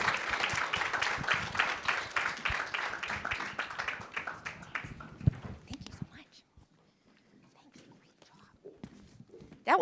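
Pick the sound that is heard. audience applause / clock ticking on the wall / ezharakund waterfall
audience applause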